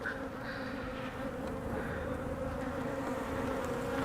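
Dense, continuous buzzing of many bees around an open beehive frame during an inspection, a steady close swarm drone with no voices.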